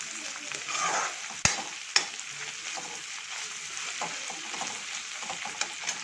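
Potato bonda batter made with gram flour frying over a high flame while being stirred, a steady faint sizzle with two sharp clacks of the utensil against the pan and softer scraping afterward.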